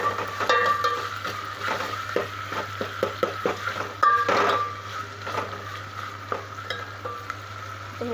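Ginger-garlic paste fries in a pan for sambar, sizzling steadily beneath a rhythmic series of close spoon scrapes and knocks against the metal, with no talking.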